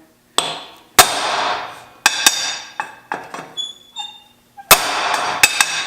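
Hammer blows on a hot rivet during metalwork, a sharp ringing strike followed by a burst of rapid, loud metallic hits, then several lighter taps and another flurry of blows.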